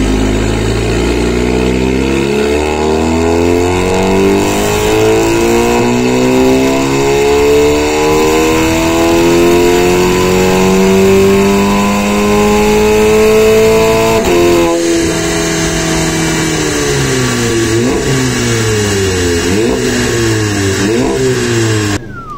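A small TCR race car's engine revs hard on a dynamometer, a loud, close, rising wail sweeping up over many seconds, then cutting back to a series of sharp blips and throttle stabs.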